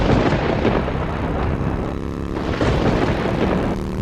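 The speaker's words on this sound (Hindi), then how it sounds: "इतने में आसमान में एक भयानक बिजली कड़की।" Loud thunder from a lightning strike in a Hindi cartoon horror story, a continuous heavy rumbling roar that fills the whole stretch without fading.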